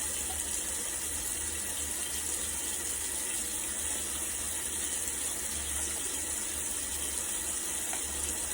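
Warm water running steadily from a tap while hands are scrubbed and washed, a close, continuous hiss and splash with no talk.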